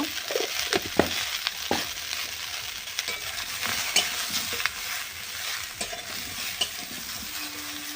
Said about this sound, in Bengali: একটু হলুদ দিয়ে দিলাম আর দিয়ে দিলাম অল্প পরিমাণে লবণ দিয়ে কপিটা ভালো করে ভেজে নেব